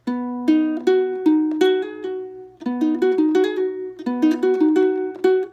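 Plucked ukulele notes in a bright, repeating fingerpicked pattern, with quick slurred notes, played twice through clearly and alone.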